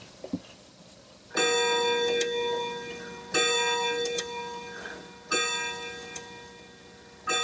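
Clockworks of a tall pine clock: loud, resonant chimes struck every two seconds or so, each ringing out and decaying, with faint ticks between them and no voices.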